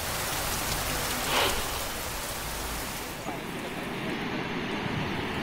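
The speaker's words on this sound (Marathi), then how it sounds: "तर वर्ध्यामध्ये मुसळधार पावसानं हजेरी लावली आणि त्यामुळे नदी नाले ओसंडून वाहू लागलेत." Heavy monsoon rain falling in Wardha, Maharashtra, a dense, continuous hiss of rain on surfaces that stays steady throughout.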